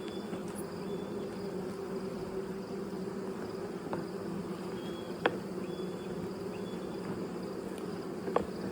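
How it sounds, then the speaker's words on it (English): Honeybees drone softly around hive frames in a mid-September colony, a steady low buzzing hum with a few sharp clicks and individual bees passing close, fairly faint throughout. "You're looking at frames of bees."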